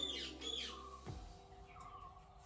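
A pet pigeon indoors gives a few close, squawking calls with rising and falling sweeps, followed by a brief low thud and quieter rustling.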